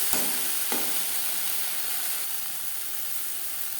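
Onion, tomato and spices frying in a pan while being stirred: a dense, steady hiss of sizzling oil, close and moderate in level, with two sharp scraping knocks of the spoon near the start and no voices.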